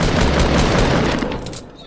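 A console shooter game lets off a dense burst of rapid gunfire, loud and close, with overlapping shots that fade near the end.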